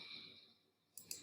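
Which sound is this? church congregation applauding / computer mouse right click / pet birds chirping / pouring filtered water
computer mouse right click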